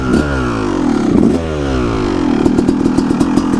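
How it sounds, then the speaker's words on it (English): A 2-stroke dirt bike engine revs loudly under throttle in first gear, its pitch rising and falling in quick surges with a raspy, clattering buzz up close. "I'm going to give it a little throttle going through this time, just so you guys can hear and see the difference in power"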